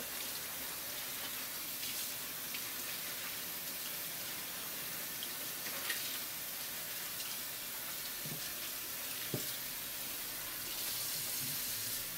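Tap water runs steadily while a juice press bag is rinsed out in a sink, a constant hissing splash with small shifts in the flow and faint handling clatter.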